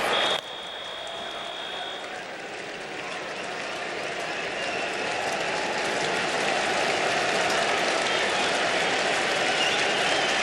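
A big baseball stadium crowd of about 27,800 at a Cubs–Blue Jays game in 2008 cheers in a broad, steady roar that builds slowly and stays loud throughout, with a brief tone at the start.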